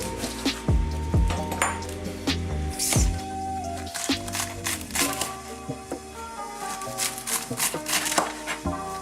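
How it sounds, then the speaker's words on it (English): A knife chops cabbage on a cutting board for pupusa toppings, sounding as a run of irregular sharp strikes, some in quick pairs, close and moderately loud over faint ringing tones in a kitchen. "we're gonna cut the cabbage"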